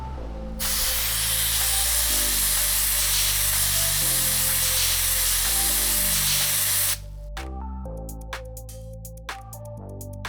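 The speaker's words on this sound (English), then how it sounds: "I received a new 30 grit sand for the sandblaster." Handheld sandblaster gun spraying 30 grit sand, a loud continuous hiss of air lasting several seconds, then short bursts as the trigger is pulsed, with compressor hum underneath.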